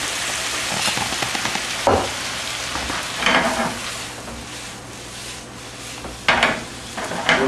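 Dry wine hitting a hot pan of cooking vegetables for corn succotash, a loud, close, steady sizzle and hiss with a few stirring scrapes and louder bursts, no one speaking.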